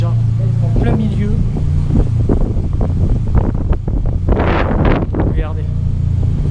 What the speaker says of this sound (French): Il y a énormément de vent ici.